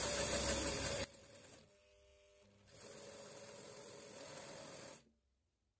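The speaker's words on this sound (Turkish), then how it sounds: "Ve düz bir şekilde dikerek devam ediyorum." A sewing machine stitches a straight seam on fabric for an elastic-waist dress with a ruffled skirt, running in a steady whirring hum that slows in the middle, picks up again and then stops.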